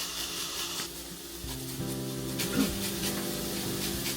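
Fat garlic cloves sizzle in a hot pan for a stir fry, a steady broadband hiss with a low hum underneath, fairly close and constant throughout with no speech.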